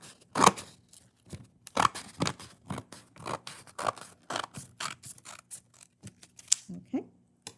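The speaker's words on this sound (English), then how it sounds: "You're going to take your scissors, and you're going to cut up the middle." A pair of scissors snips repeatedly up the middle of a piece of material, a close, crisp series of about a dozen uneven cuts with mechanical clicks between them.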